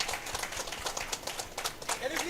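Audience clapping for a quiz team at a technology quiz event, a brisk round of irregular claps from a modest crowd, with voices mixed in.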